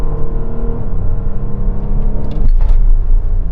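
An Audi Q7 diesel SUV with automatic gearbox launches hard from a standstill using launch control, a loud close engine roar climbing through the gears with a brief shift dip, no talking.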